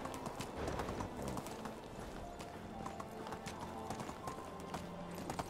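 Steady clip-clop of hooves from a ridden donkey in the medieval video game Medieval Dynasty, a continuous even rhythm of soft thuds heard alone at moderate volume.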